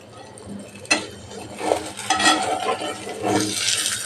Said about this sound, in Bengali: এখন আমি চাউ যে বানিয়েছিলাম সেই চাউটা এরম আস্তে আস্তে দিয়ে দিচ্ছি ডিমের মধ্যে।